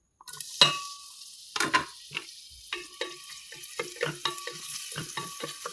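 Ingredients for a Filipino kalabasa with monggo dish are sautéed in hot oil in a pot, with sharp scraping stirs and clatters breaking through an uneven sizzle in a close, quiet kitchen.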